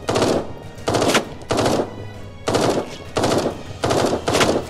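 Bursts of rapid automatic weapon fire in the Eden Star video game, six roughly evenly spaced volleys, loud and close, with short pauses between them.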